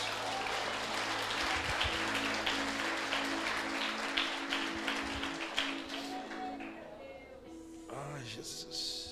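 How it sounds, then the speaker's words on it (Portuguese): Congregation applause during an Easter church service, moderately loud clapping mixed with a sustained musical tone and scattered voices, fading out as a speaker's voice returns near the end. "Você pode aplaudir o nome desse Deus?"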